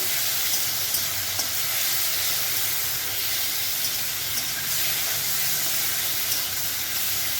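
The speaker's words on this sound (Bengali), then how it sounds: "এই একটুখানি লবণ দিয়ে দিলাম তো এটা এখন ভাজা ভাজা হয়ে গেছে" Food sizzles steadily in a pan after a pinch of salt is added, a loud, constant hiss with occasional faint crackles, close and uninterrupted, with no talking.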